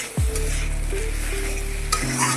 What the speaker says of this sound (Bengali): সব লাগে জিনিসগুলো এক সাথে সবাইকে ভেজে নিতে হবে